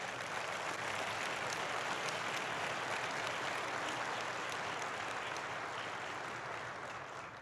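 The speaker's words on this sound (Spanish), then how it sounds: "Dale un aplauso a Dios" A church congregation applauds, dense sustained clapping from many people at an even level that tapers slightly at the end.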